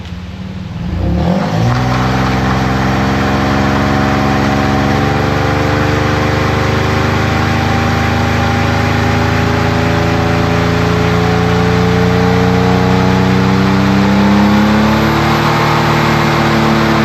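A Firebird's V8 fires up and revs steadily, climbing in pitch as the rear wheels spin to test the posi axle, loud and close throughout with no talking.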